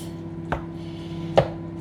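A microwave runs in a home kitchen during cottage pie preparation, giving a steady low hum throughout, punctuated by three sharp knocks of nearby kitchen work.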